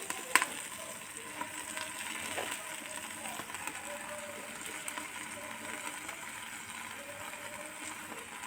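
Pak choy fries in a FANLAI cooking machine alongside salted mackerel, giving a steady, quiet sizzle with faint stirring clicks throughout.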